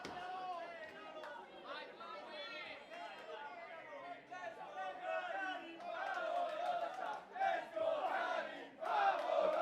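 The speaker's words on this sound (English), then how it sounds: "you can hear the crowd is split 50-50 for KARIM Brigante and Flowey" A pro wrestling crowd at an indoor venue cheers and chants, its support split between two wrestlers, with loud, surging voices building in waves beneath continuous talking.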